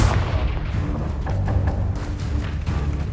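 Confringo fire spell blasts in Hogwarts Legacy arrive as booming, thudding impacts. Several sharp bursts stand out over a constant low rumble of combat, loud and close.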